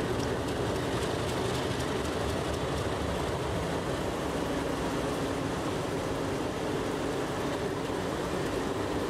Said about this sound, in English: 4001 and 4490 are now making their way to Everleigh to get ready for the transfer